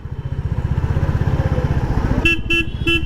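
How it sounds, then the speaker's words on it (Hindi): A Royal Enfield Classic 350 motorcycle engine idles with a rapid rumbling pulse, then three short honks of its horn sound close by in quick succession. "आई लाइक दिस हॉर्न, बिल्कुल भी कानों में नहीं चुभ रहा होता"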